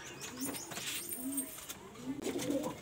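Pigeons coo repeatedly inside a loft in Kolkata, soft rolling calls rising and falling close by, with faint chirps and rustling between them.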